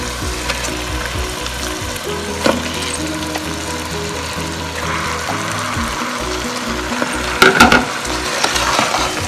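Chicken pieces fry in a masala base for chicken biryani made with a Faico's Rasa biryani kit, giving a steady close sizzle with occasional stirring scrapes and a few brief louder clatters.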